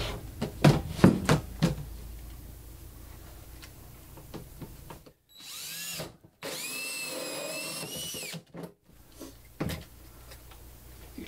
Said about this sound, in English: they use a 1 7/8 inch hole saw bit